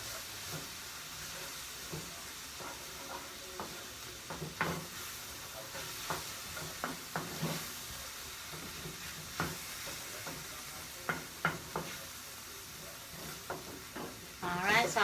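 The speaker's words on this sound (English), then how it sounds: "Then I go ahead and I mix that in." Stirring a thick sausage and shrimp creole mixture in a pot, with a steady sizzle and hiss from the cooking underneath and intermittent scraping knocks of the spoon against the pot; a voice speaks briefly.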